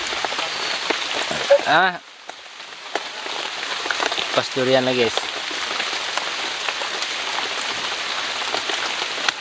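Steady rain falls on a surface throughout while someone splits open durian at a rural durian orchard, with brief speech breaking in near the start and middle.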